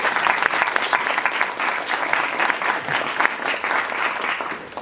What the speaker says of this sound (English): let's give him a round of applause to welcome him